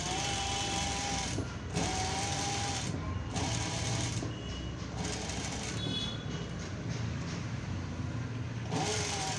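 A sewing machine runs while stitching a boat-neck blouse, humming steadily in close, continuous stretches broken by a few brief pauses, with no clear speech.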